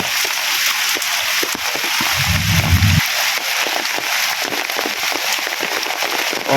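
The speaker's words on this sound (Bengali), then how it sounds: "বৃষ্টি প্রচুর পরিমাণে হয়েছে" Heavy morning rain pouring down outdoors, a dense, loud, steady hiss of drops with sharp splatters, briefly joined by a low rumble partway through.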